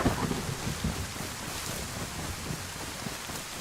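Steady rain pours in the DayZ survival video game, with low rumbling thunder rolling underneath, a continuous moderately loud wash of rainfall and no talking.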